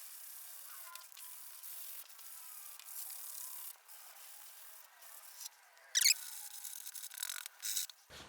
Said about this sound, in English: we'll go ahead and get this sanded up